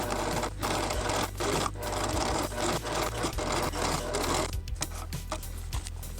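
A sewing machine stitches a patchwork seam in a rapid, steady mechanical chatter with brief pauses and restarts, close and alone.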